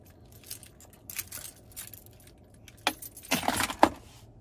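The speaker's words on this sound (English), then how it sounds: "And finally, here's our key fob," Keys on a 2021 Kia Sorento Hybrid S key fob jangle in a few close, bright bursts of metallic clinking, the loudest cluster near the end, with no talk.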